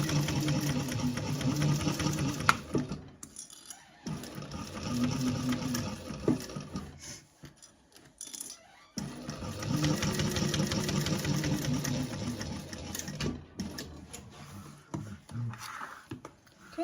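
A sewing machine stitches fabric in steady runs of rapid mechanical whirring, broken by short pauses between passes, close and fairly loud with a voice heard faintly in the gaps.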